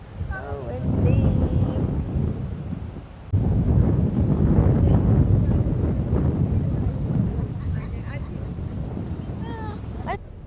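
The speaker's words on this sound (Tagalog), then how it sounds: "Sobrang hangin, guys. So, windy." Strong wind blows at a beach on Balesin, a loud continuous roar buffeting the microphone, while a voice talks at the start and again near the end.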